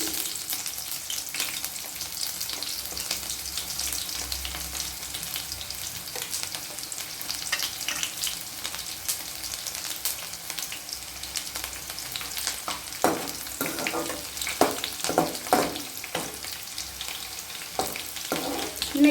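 Snake gourd frying in hot oil with popped mustard seeds, a steady close sizzle throughout with scraping stirs and clatter growing busier toward the end, no talking.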